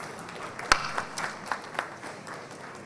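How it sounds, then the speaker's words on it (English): An audience applauds a panelist at a startup investment event, with scattered claps heard moderately soft and a bit distant and one sharp clap standing out near the start. "request each and every one of you to kindly applaud"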